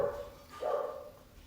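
Dog barking in the background: one short bark-like yelp, moderately loud, with faint room noise and no talk.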